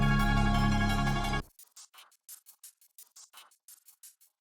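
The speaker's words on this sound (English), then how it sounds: "we also introduced these glitch hats that sound like this." After a loud synth-and-drums metalcore passage cuts off, glitchy hi-hats built from a chopped crash cymbal sample tick in an irregular stuttering pattern of short, bright, crisp hits.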